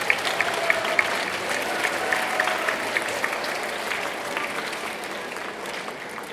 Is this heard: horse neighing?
no